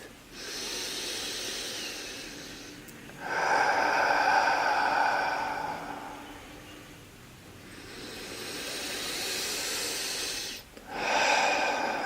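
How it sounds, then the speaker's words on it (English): Slow, deep breathing during a guided meditation for releasing fear, with long airy inhales and exhales of several seconds each, close to the microphone and breathy, with no speech. "Breathe."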